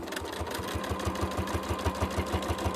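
Sewing machine stitching during free motion quilting: a steady, rapid mechanical chugging with an even rhythm, close and continuous throughout, with no talking.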